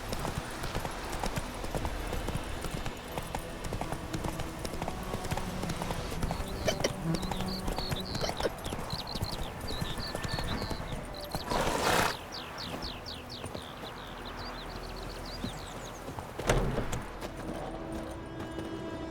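Hooves clatter in a fast, steady galloping rhythm as a horse runs through The Witcher 3, with background rumble and a couple of brief sharper noises mixed in, no talking.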